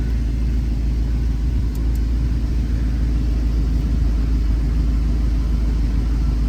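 Audi R8 V8 engine running at a steady idle, a continuous deep rumble with even loudness throughout and no voices.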